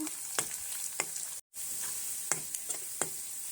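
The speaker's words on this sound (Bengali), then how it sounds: "আর এখানে পেঁয়াজ ভেজে নিচ্ছি" Onions fry in a pan with a steady bright sizzle, punctuated by a few soft stirring scrapes and taps, with one brief total dropout in the middle.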